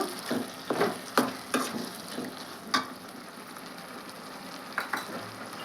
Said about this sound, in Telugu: టమాటా ముక్కలు అయితే బాగా మగ్గినాయండి నేను కారం వేస్తున్నాను